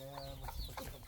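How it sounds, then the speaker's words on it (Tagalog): Chickens clucking in short repeated calls at a moderate distance, set against a steady background hum with no talk. "Oh, chicken."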